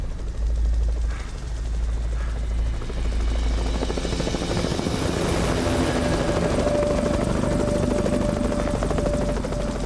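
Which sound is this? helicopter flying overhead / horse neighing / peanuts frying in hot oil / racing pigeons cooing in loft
helicopter flying overhead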